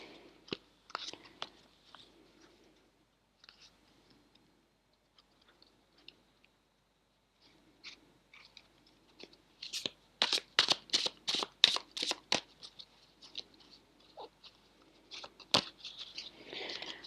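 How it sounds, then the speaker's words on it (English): A Golden Klimt tarot deck is shuffled by hand at close range, quiet taps and slides giving way to a fast burst of crisp card riffles, then scattered soft flicks. "Let me shuffle these."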